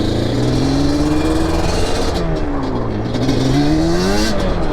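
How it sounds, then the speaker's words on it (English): Yamaha Banshee 350cc two-stroke ATV engine revving loudly and continuously, its pitch rising and falling through repeated throttle blips close by. "350cc 2-stroke Banshee."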